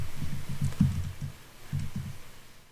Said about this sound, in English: here, I'm going to type items